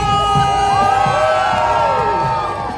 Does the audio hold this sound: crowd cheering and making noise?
yes